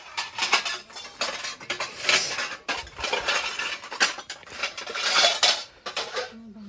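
A metal cooking pot and utensils clatter and clink in a home kitchen in a series of close, uneven bursts of scraping and knocking, with a brief pause midway before the handling starts again.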